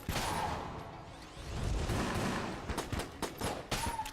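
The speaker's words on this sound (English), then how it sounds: "Because dark marker is pretty strong. It's a very strong gun here." Rapid gunfire and crackling blasts from the Dark Marker weapon in the video game Enter the Gungeon, dense and continuous with sharp bursts, loud and busy with no voices.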